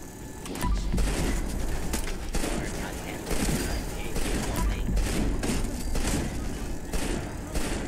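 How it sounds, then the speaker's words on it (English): Dense, overlapping gunfire from several shooters in the Fallout 76 video game, sharp bursts and booms crowding together continuously with loud game ambience throughout. "There's only like five people shooting shit at me."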